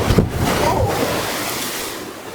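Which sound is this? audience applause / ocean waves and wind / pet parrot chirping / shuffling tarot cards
ocean waves and wind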